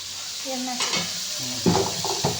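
A pounded paste of onion, ginger, garlic and chilli sizzles loudly in oil for a spicy mutton fry cooked outdoors, with a spatula scraping and stirring in quick strokes against the pan.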